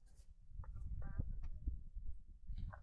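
A chicken clucks in a few short, throaty bursts at close range outdoors at Pa Hin Ngam National Park in Chaiyaphum, Thailand, with low rumbling background noise between the calls.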